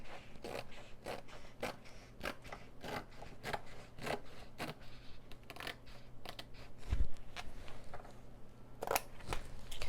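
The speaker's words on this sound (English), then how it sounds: "cutting about halfway through my washi tape because that just gives me a nice guide to cut from" Scissors snip through washi tape in a series of short, crisp cuts with light paper rustling and handling noises between them, close and fairly quiet.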